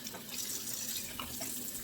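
Cool tap water runs steadily into a kitchen sink to rinse a whole turkey, a continuous soft hiss and splash, fairly quiet and close, with no one talking.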